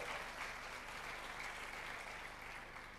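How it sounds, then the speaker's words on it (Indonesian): Church congregation applauding together, a steady dense wash of clapping sustained evenly throughout with no talk over it. "tepuk tangan yang keras buat Allah kita"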